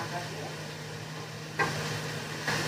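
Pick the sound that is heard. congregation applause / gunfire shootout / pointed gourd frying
pointed gourd frying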